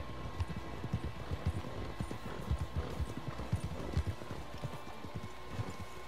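Horse hooves clip-clop in a steady walking rhythm in Red Dead Redemption 2, moderately close over a low ambient background, with no talking.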